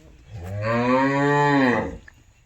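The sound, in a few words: cattle mooing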